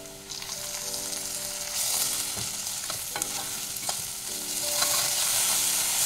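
Ground spices—turmeric, coriander, cumin, Kashmiri chili—and ginger paste fry in oil in a pan for a Bengali taro root fish curry, a steady close sizzle with scraping stir strokes and a low hum underneath.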